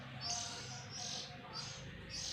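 Oriental magpie-robin (kacer) chicks give faint, repeated high chirps in short clustered bursts over a soft, steady background hiss.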